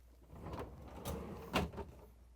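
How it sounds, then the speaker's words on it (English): A Whirlpool refrigerator's freezer door is opened, giving soft rustling and a quick seal-release thump, quiet and close, with no talk. "Let's open the freezer door to get to the part."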